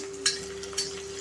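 Onion petals fry in hot oil under a low, steady sizzle, with two quick stirring scrapes about half a second apart.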